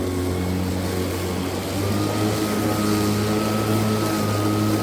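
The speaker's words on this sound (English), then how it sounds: "Motor revving up a little bit there." A Greenworks Pro 60V battery lawn mower cuts through high grass, its electric motor humming steadily with a loud, continuous drone that swells slightly as it revs up, close by with no talking.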